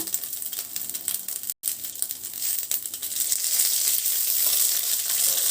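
Halved green chillies frying in a little oil in a pan, crackling and sizzling close by, with a brief gap and then a louder, denser sizzle building toward the end.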